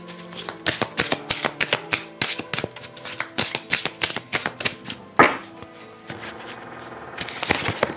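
Tarot cards shuffled by hand in a brisk, rhythmic run of snapping riffles and taps, loud and close, with a short pause before more shuffling.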